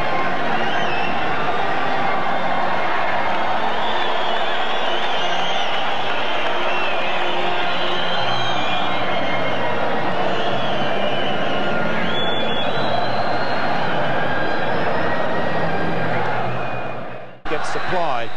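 A football stadium crowd of around 25,000 at an Australian World Cup qualifier, a steady roaring murmur with swells of cheering, constant and broad, with a commentator speaking over it, cutting off abruptly near the end.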